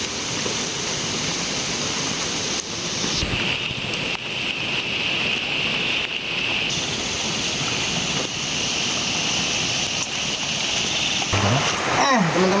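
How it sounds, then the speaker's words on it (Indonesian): Steady rain falls around a hut at the edge of rice fields in a rural village, a dense, even hiss of drops that continues unbroken throughout. "Dan ini tuh suasananya turun hujan lagi ya teman-teman."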